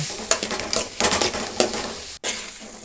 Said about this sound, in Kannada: ಕಾಯಿ ತುರಿ ಮತ್ತು ಕೊತ್ತಂಬರಿ ಸೊಪ್ಪು ಇಷ್ಟನ್ನು ಆ್ಯಡ್ ಮಾಡಿಕೊಂಡು ನೀಟಾಗಿ ಮಿಕ್ಸ್ ಮಾಡ್ಕೊಳೋಣ